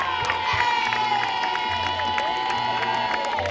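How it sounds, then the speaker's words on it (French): A crowd cheers and claps for the podium at a Vendée va'a outrigger canoe race, with shouts, whoops and children's voices over a tonal hum and rhythmic background beats. "applaudissements très forts pour ce super podium"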